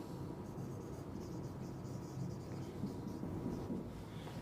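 Chalk or marker scratching steadily across a classroom board as a lecturer writes out a definition, a continuous close scraping texture with small taps and pauses, no talking over it.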